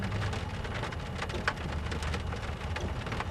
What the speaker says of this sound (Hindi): बारिश हो रही है, देख लीजिए